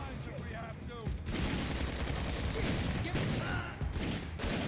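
A shotgun blasts an enemy in the leg in Max Payne 3, with a dense roaring barrage of gunfire filling most of the clip after a brief stretch of talk and game sound.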